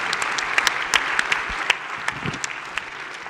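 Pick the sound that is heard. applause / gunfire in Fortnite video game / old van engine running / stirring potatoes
applause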